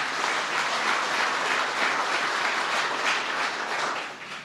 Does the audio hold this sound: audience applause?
yes